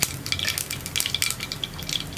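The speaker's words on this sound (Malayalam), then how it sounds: "അപ്പോൾ നമ്മുടെ കടുക് പൊട്ടി തുടങ്ങുന്നുണ്ട്" Mustard seeds splutter in hot coconut oil in a pan, a faint, continuous sizzle dotted with rapid little crackling pops, heard close with no talking.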